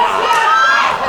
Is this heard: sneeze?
no